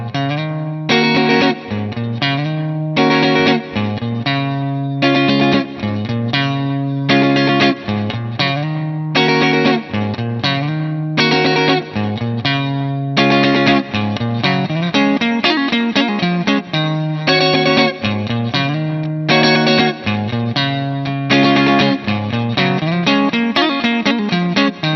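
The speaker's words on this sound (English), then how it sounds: "Listen to this on a Strat." Electric guitar played on a Fender Stratocaster through effects, loud and continuous with distorted, chorus-tinged chords in a repeating rhythmic pattern lasting the whole stretch, no voices.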